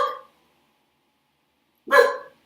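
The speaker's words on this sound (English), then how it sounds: "now that my dog stopped barking." A pet dog at home barks twice, one sharp bark at the very start and another about two seconds later, both close and loud with silence between them.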